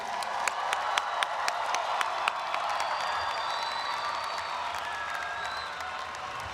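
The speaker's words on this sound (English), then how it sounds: "how about one more round of applause for our graduates?" An audience at a college graduation ceremony gives the graduates a sustained round of applause, a soft, even wash of clapping heard from a distance in a large hall, with a few sharper claps near the start.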